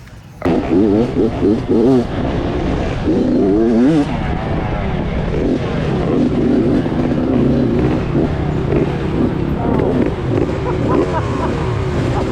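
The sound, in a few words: off-road vehicles taking off racing on dusty trail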